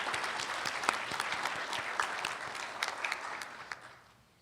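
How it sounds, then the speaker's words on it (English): Audience at the Treaty 3 Awards Banquet gives a warm round of applause for an honoree from a health access centre, dense sustained clapping that fades out at the end. "You can give her a round of applause."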